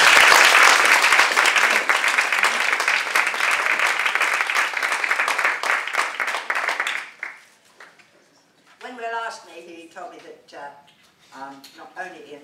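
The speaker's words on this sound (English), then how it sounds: "if we could give a rousing round of applause" An audience at a literary award talk gives loud, dense applause for about seven seconds, which then stops abruptly, and a single voice begins speaking afterward.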